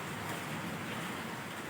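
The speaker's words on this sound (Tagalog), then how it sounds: "Biglang umulan, lakas ng ulan." Heavy sudden rain pouring outdoors, a steady dense hiss of falling water, faint and distant-sounding with no other sounds.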